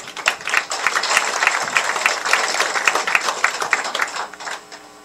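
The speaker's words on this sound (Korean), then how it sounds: "박수를 한번 보내주세요." Audience applause fills an emergency forum on resuming Mount Kumgang tourism, a dense, steady wash of many hands clapping close and loud for about five seconds with no talk over it.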